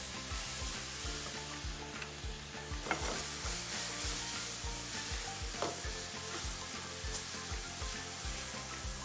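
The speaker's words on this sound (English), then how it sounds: "very fast I will add the tomatoes and then cook them down for like 5 minutes" Tomatoes cook down in a pan during Shakshouka preparation, giving a steady close sizzle with scraping stir strokes throughout and no talking.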